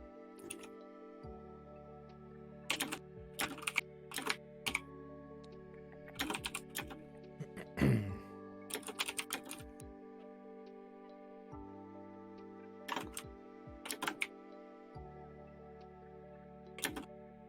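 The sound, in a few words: typing on a computer keyboard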